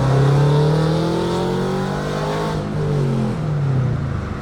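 A 2022 Toyota GR86 pulls away under acceleration from inside or close by, its engine note climbing steadily through the revs with a smooth, buzzing drone, then easing briefly before building again.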